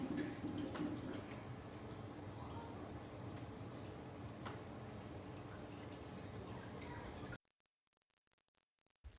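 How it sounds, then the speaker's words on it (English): A DIY indoor waterfall wall runs steadily, with water streaming and splashing continuously for about seven seconds before it cuts to near silence. "Echo, turn on waterfall."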